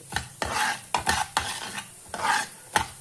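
Spices and dal dry-roasting in a pan for Madhva-style sambar, with repeated rhythmic scrapes and stirs of a spatula over a soft crackling sizzle, close and fairly loud.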